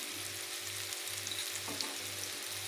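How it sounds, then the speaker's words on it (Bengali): Pointed gourd seeds frying with salt in a covered pan, a steady close sizzle with a faint rhythmic low hum beneath and a brief clink partway through. "বীজটাকে আমি প্রথমে ভেজে নেব ঢাকা দিয়ে"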